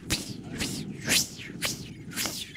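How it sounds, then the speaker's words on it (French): Sealant latex hissing and spraying from a punctured bicycle tyre while riding, heard as a series of short sharp hisses about every half second, repeating with each wheel turn over low road rumble. "À chaque tour de roue, tu sais que là, il y a du latex qui est en train de s'enfuir du pneu."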